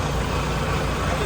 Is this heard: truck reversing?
yes